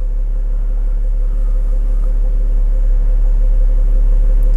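Steady idle of a Ford Falcon (AU, BA, BF or FG) engine with a rich-running oxygen sensor fault, a loud, even low rumble holding constant and close throughout with no voices.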